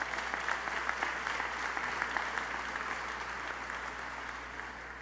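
An audience at a university opening convocation claps steadily, a dense, even patter of many hands heard from a moderate distance that holds for several seconds and eases slightly toward the end.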